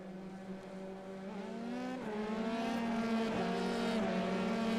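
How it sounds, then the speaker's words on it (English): F3 race cars leave the pit lane at Imola in a racing sim game, their engines droning steadily and climbing in pitch as several cars build up together, loud and continuous without speech. "suddenly, cars will pour out of the pit lane"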